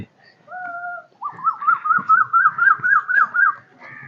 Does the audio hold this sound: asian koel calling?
yes